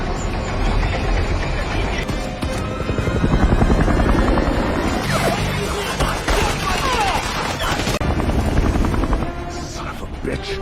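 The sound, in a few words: helicopter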